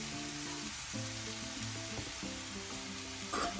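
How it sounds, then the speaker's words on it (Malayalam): Green bitter gourd frying under a lid for pavakka mezhukkupuratti, a steady muffled sizzle with a sustained tonal hum running beneath it and a brief louder burst near the end, no speech. "അടച്ചു വെച്ച് ഒന്ന് ഫ്രൈ ആക്കുക"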